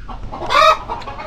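A hen clucks once after laying an egg in an old farmhouse setting, a short loud burst of squawking clucks over low background rumble.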